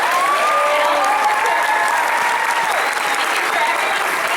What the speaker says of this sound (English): if everyone could give me a round of applause for all our volunteers